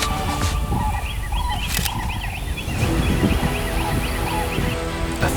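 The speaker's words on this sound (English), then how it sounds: "Sandhill cranes hide in the tallest grass." Sandhill cranes calling from tall wetland grass in autumn, a steady series of rolling, rattling bird calls repeating through the whole stretch over a dense outdoor background.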